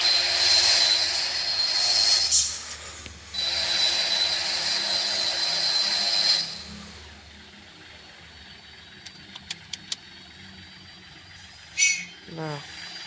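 A modified Mitsubishi Lancer Evolution X drives in fourth gear. Its steady roaring drone runs for about six seconds with a brief dip, then drops to a quiet cabin hum broken by faint clicks.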